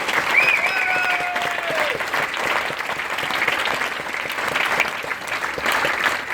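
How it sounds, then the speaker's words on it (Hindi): An Amway India audience applauds a stage speech with sustained, thick clapping. Occasional whistles and cheers rise above it, and the applause stays loud throughout. "clap as hard as you can today"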